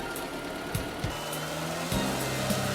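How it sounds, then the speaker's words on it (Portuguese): A Fiat Tempra 2.0 16V engine with Magneti Marelli G7.25 electronic injection idles while its idle valve is actuated, a quiet mechanical hum whose pitch steps and shifts several times, with faint clicks along the way. "É possível perceber o movimento interno da válvula através da variação de rotação do motor"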